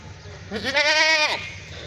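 A goat at a livestock market lets out a single loud, close bleat with a wavering, nasal tone lasting under a second, alone over quiet background.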